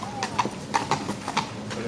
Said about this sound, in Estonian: tori hobune on ikka hea turvaline